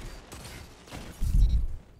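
Hand cannon fire in the online shooter Destiny 2, heard as a heavy low burst around the middle of the clip, loud and close over a faint ambient game backdrop with no talk.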